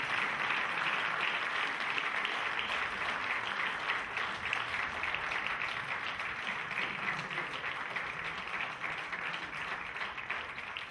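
Audience applause at a stage play performance, a sustained wash of crowd clapping that stays fairly even and moderately distant for the whole stretch.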